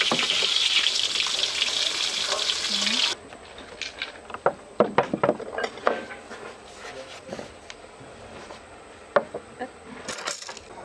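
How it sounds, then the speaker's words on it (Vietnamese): Luffa gourd stir-fried in a pan while fish fries in hot oil, a loud steady sizzle for the first few seconds, then quieter crackles with scattered sharp taps and clinks of utensils. "Bây giờ thì mướp cũng đã xào xong rồi, cá thì chiên vàng tươi luôn."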